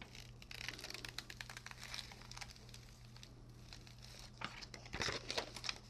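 Sign vinyl is peeled off its backing for a door sign, a faint, close, continuous crinkling and crackling with small tearing pops that grow busier toward the end.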